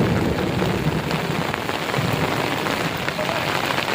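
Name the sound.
heavy rain with thunder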